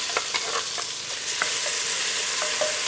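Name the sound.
diced onion and roasted hatch pepper sizzling in hot oil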